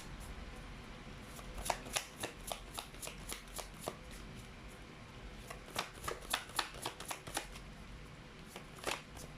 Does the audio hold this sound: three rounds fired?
no